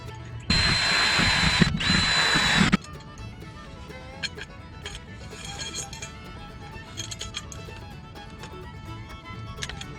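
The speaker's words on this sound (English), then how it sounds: "I can drill a hole here and be happy with it." Power drill whining loudly for about two seconds with a brief pause while boring a hole in a canopy tube, then quieter handling clatter and scattered taps.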